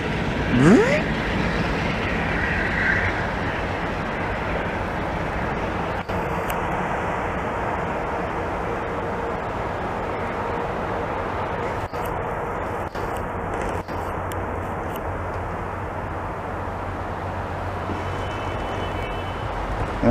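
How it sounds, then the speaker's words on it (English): An old smoky GE locomotive idles with its air compressor chugging in a steady, loud low drone on a very cold day, with a few brief clatters and no break in the rumble. "I love that compressor sound it makes there"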